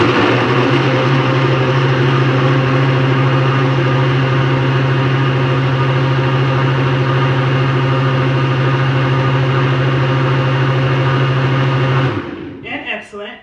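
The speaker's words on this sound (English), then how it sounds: "let me just turn the blender on for a moment" Kitchen blender whirring steadily as it mixes raw milk, colostrum, yogurt, banana and blueberries into a smoothie, a loud constant motor hum for about twelve seconds before it winds down and stops.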